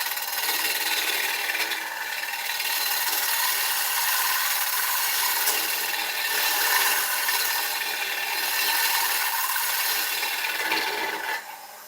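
Ash wood turning on a lathe under a bevel cut, a steady close rasping, hissing scrape that holds for several seconds with slight swells.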